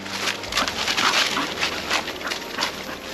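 A dog whimpers softly in short repeated whines beside a waterfall, the cries rising over a constant rush of falling water.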